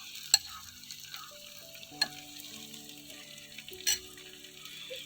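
Spinach sautéing in a pan, with a soft background sizzle, a few sharp clinks of a spoon against the pan, and faint tonal hums underneath.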